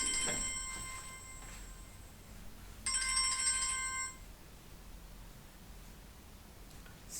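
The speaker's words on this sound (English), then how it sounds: "I'm just putting the ringer off." Mobile phone ringtone chiming in two short bursts of a bright electronic melody, the second louder, with a quiet room and faint rustling between.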